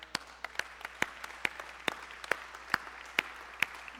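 A church congregation welcomes visitors with thin, sparse applause: a few distinct claps land in a slow, steady rhythm, roughly two per second, over a quiet room.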